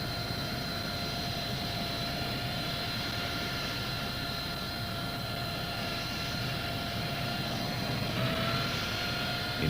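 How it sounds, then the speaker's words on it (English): A Harrier jet accelerates forward into wing-borne flight, its engine a steady, dense roar with a whining tonal layer, continuous and unbroken from a moderate distance. "The aircraft accelerates forward and reaches normal wing-borne flight speed."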